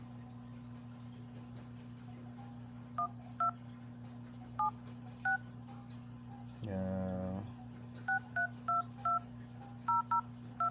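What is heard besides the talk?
smartphone keypad dialing tones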